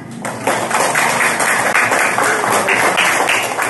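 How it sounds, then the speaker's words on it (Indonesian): Children in a religious studies classroom clap their hands together in a lively, fairly loud burst that lasts several seconds, with brief voices mixed in. "Tepuk tangan dulu lah"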